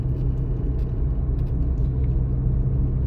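Steady low engine rumble and road noise from inside a car with a manual gearbox, cruising in third gear at about 40 km/h, continuous and even with no talking.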